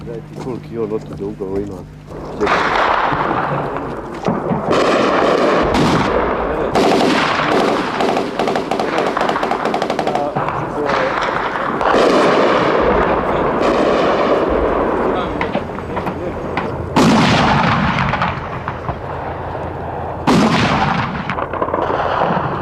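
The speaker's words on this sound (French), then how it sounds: "La nuit est terrifiante, partout des explosions, des traçantes." Repeated heavy blasts and bursts of gunfire rumble through a noisy night scene of war around Sarajevo, with a voice speaking over the din.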